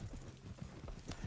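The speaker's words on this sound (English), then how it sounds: "You'll run the horses into the ground." Horses' hooves clip-clop in a steady trotting rhythm in the Red Dead Redemption 2 video game, faint and muffled under a low background rumble.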